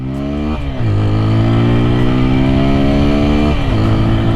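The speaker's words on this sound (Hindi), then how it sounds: "यहाँ से मैं डालता हूँ स्पोर्ट्स मोड पे एंड अब यू टर्न लेके बाइक को लॉन्च करेंगे।" A TVS Apache 160 4V motorcycle in sports mode roars loudly and close, launching from a U-turn and revving up hard through the gears with rising pitch and a brief shift between surges.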